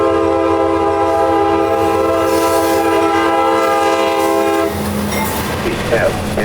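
A CSX freight train, the B315 out of New Wales bound for Rockport Yard, sounds a long loud horn blast while the rail cars rumble past close by, ending in a rattling clatter as the horn stops.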